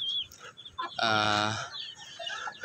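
Shamo chickens cluck close by, with one drawn-out loud squawking call in the middle and softer clucks before and after.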